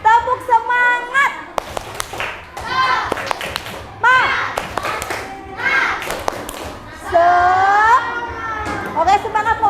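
Schoolchildren in a classroom perform a patterned spirit clap, bursts of rhythmic hand claps and slaps alternating with loud chanted and sung voices, the group's claps and shouting close and lively throughout.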